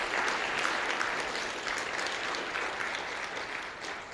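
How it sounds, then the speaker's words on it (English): An audience claps steadily for the artifact evaluation chairs at a programming languages conference, a dense, even round of applause that fills the room and tapers slightly toward the end. "please, let's give them a round of applause"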